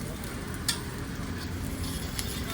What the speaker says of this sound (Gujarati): ડુંગળી અને કેપ્સિકમ મરચાં નાખીને ધીરે ધીરે ધીમા તાપે સાતડી લઈશું આપણે